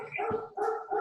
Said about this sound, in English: my dog has to start barking every time